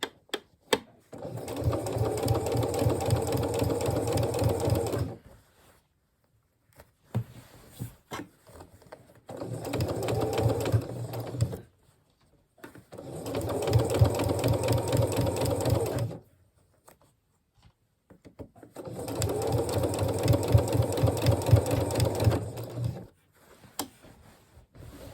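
A sewing machine stitches a coat in four long bursts of steady, rapid whirring, each several seconds long, separated by short quiet pauses, close and fairly loud with no talking.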